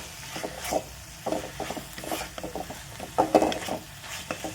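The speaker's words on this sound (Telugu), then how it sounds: "పసుపు వేసుకొని మంచిగా కూరకు పట్టే విధంగా కలుపుకోవాలి." A spoon works turmeric through a simmering spinach and lentil curry in a pot, making soft, irregular scraping and stirring strokes over a faint, quiet sizzle.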